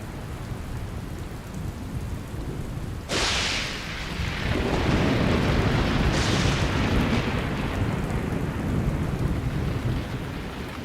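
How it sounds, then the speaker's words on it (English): Relentless heavy rain on an open plain with rumbling thunder, a continuous dense hiss of downpour punctuated by two sharp thunder cracks that roll into low, sustained rumbling. "The relentless rain gradually begins to fill the pans."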